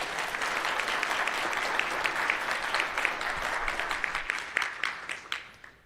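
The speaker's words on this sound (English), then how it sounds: "another round of applause for Andreas" A conference audience applauds in a hall, dense clapping that holds steady then thins into scattered claps and fades out.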